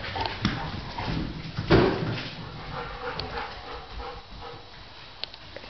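Two dogs named Chicky and Nugget bark and whimper in a few short bursts while playing fetch. The sounds are close and moderately loud, with rustling between the barks.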